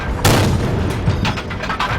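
A tank cannon fires in a tank video game with a KV-1, a sharp heavy boom up close followed by a rumbling tail and a second, softer thud a moment later.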